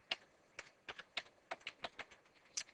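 Close, crisp keystrokes on a computer keyboard while an access list is configured on a Cisco switch, about a dozen separate taps in an uneven typing rhythm with no voices.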